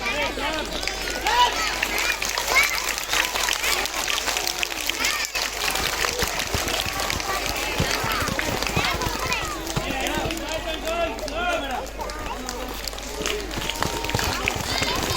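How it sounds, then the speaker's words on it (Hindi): School audience applause at a Hindi Diwas event, a dense, steady clapping from many hands throughout, under someone speaking over a microphone. "तालियों के साथ स्वागत कीजिए।"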